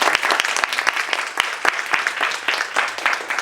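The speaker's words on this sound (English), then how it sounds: "and give her a round of applause." Audience applause after a speech, with distinct individual claps standing out in an uneven, lively burst of clapping that stays close and fairly loud for the few seconds heard.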